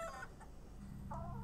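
Chickens cluck in a short burst in a scene from the Fallout TV series, two quick clucking calls set against a low steady background, with no talking.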